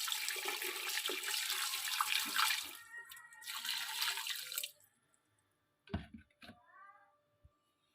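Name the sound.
water poured over mutton in pressure cooker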